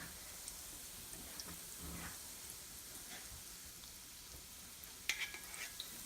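Milk powder gulab jamun deep frying in oil, a soft, steady bubbling sizzle like light rain, with a brief brighter clink and spatter near the end. No speech.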